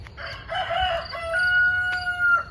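A rooster in a St. Louis garden crows loudly and close by, one drawn-out call with a rising, wavering tone that holds for about two seconds over faint outdoor background.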